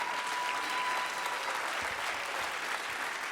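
A comedy show audience applauds in a dense, steady burst of clapping that fills the space evenly from start to finish, with no speech over it.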